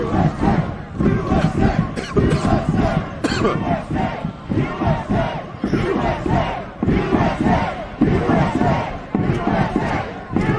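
A large crowd of Trump supporters shouts and roars outside the US Capitol, a dense, continuous wall of yelling voices heard close and loud throughout.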